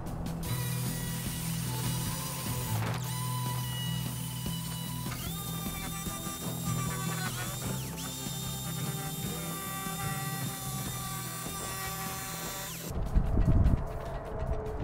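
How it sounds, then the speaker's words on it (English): A jigsaw saws a hole through the sheet-metal sliding door panel of a Ford Transit Custom camper van, a loud steady buzzing cut with shifting pitch that stops abruptly near the end, followed by a brief clatter. "Best way to use a jigsaw when cutting holes in any"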